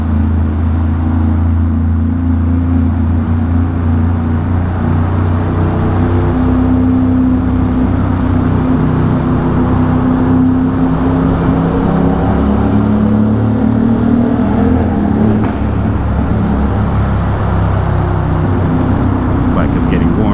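A motorbike rides through congested Friday-morning traffic in the Holland Tunnel, its engine a steady loud rumble blended with the enclosed roar of surrounding vehicles, the pitch rising and falling slightly as it moves.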